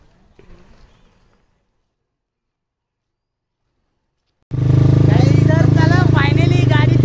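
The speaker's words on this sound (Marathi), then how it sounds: "फायनली गाडी चालू झालेली आहे" A vehicle engine starts after a battery swap and settles into a loud, steady idle drone. Voices talk over it, after a faint stretch and near silence.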